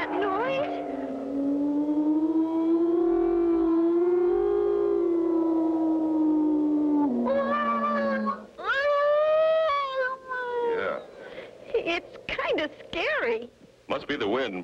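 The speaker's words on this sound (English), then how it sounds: "Must be the wind blowing around the tower." Wind howling around an old castle tower in a cartoon, a long wavering moan that rises and falls for several seconds, then shifts into warbling tones as voices begin speaking over it.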